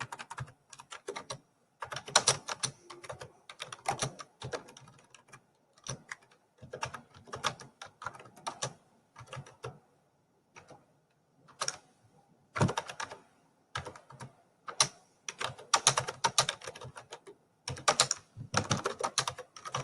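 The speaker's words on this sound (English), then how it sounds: "I'm just typing what is appearing in step 8" Rapid bursts of computer keyboard typing while text is entered in Microsoft Word 2019, arriving in clustered runs of keystrokes separated by short pauses, close and clear with no talking.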